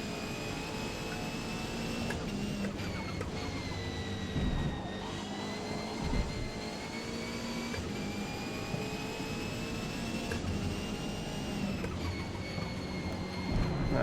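A race car engine in Forza Motorsport drones at high revs with a sustained whining tone, dipping briefly as gears change and bouncing off the rev limiter, loud and continuous.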